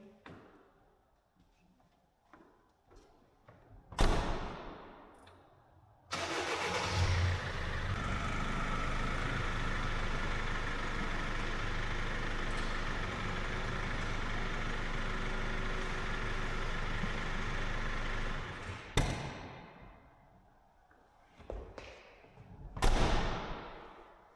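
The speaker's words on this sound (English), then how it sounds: "I need to drive it a little bit forward and backwards and turn the wheels" A Sprinter van is driven a little forward and backward to settle its suspension. Its engine rumbles steadily and fairly loud for about thirteen seconds, framed by shorter thumps and engine bursts before and after.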